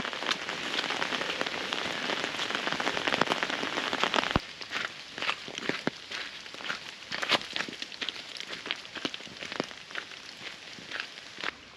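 Drizzly rain patters steadily on surfaces during a long walk along the Via Francigena, thick and continuous at first, then thinner with scattered sharp drops and faint footsteps after a sudden dip in level.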